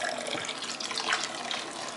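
Hot homebrew wort is poured back over the grain bed during batch sparging, making a steady, close splashing rush of liquid that holds for the whole stretch without talk.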